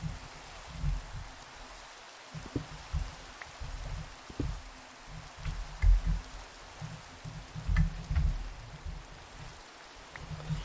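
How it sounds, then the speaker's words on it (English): Rain falls steadily in the Minecraft video game, a continuous soft hiss with low rumbling patter running throughout, with no talking. "Oh, rain."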